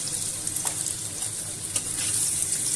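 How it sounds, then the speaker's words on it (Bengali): Potatoes frying in hot oil for a masala bhindi dish, giving a steady, close hiss with a few brief crackles and light scrapes, growing slightly louder toward the end. "ওই তেলের মধ্যে এবারে আমি আলুগুলোকে ভেজে নেব।"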